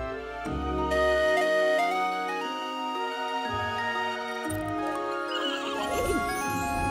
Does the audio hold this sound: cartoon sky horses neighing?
yes